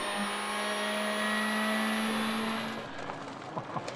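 Freddy Loix's golden Skoda Fabia rally car screams past at high revs on a Belgian rally stage, a sustained loud engine whine that drops away, leaving fainter engine noise and small bumps.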